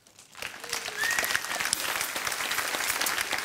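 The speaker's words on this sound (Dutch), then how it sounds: "APPLAUS." Audience applause at an award ceremony in Reek, starting from near silence and swelling within half a second into steady, dense clapping that holds loud to the end.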